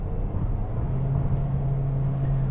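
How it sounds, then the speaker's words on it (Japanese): A Mazda CX-3 15S Touring with a 1.5L petrol engine revving near 3000 rpm, heard as a steady, loud engine drone with a constant low hum and road rumble throughout. "3000回転に届かんとするような領域で回ってるので結構エンジンの音はでかく感じるというのも正直なところですね"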